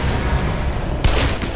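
Gunfire in the shooter game Black Mesa, dense crackling shots that build into a louder burst of fire partway through, close and busy throughout with no talking.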